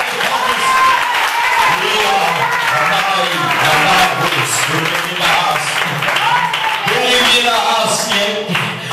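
A church congregation at a Portuguese-language service claps together in a dense, continuous round of applause, while voices carry over it throughout.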